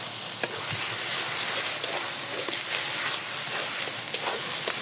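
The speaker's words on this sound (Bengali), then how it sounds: "আমার আদা রসুনটা ভালো করে আমি ভেজে নিয়েছি।" Ginger-garlic paste fries in oil in a pan with whole cloves, cinnamon, cardamom and bay leaf, giving a steady, close sizzle broken by occasional scraping clicks as it is stirred.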